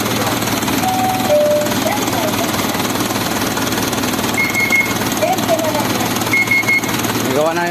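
Isuzu 4HF1 diesel engine, converted from semi-electronic to manual, running loud and steady with a dense rumbling clatter throughout, a few faint whistles over it.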